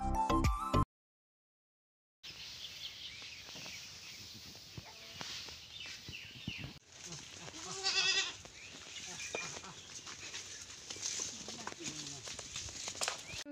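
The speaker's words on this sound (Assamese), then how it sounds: "ছাগলী বান্ধিবলৈ আৰু পোৱালিটোতো অহাই নাই, দূৰত কান্দি আছে" A young goat bleats a few thin cries from far off, set against a busy outdoor background of rustling and soft ambient noise.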